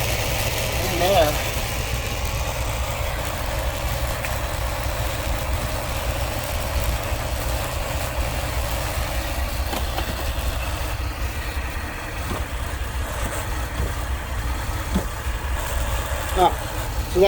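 A vehicle engine idles in reverse with the brake on, a steady low mechanical rumble and faint whirring from the hydro-boost brake system, continuous and unchanging throughout, with occasional small clicks.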